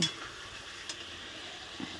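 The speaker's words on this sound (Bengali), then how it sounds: "এটাতে কিন্তু আমি এবার মাছটাও দিয়ে দিব" A quiet, steady sizzle of fried fish being stirred into spiced potato masala, with a couple of soft spoon scrapes against the pan, close and uninterrupted by talk.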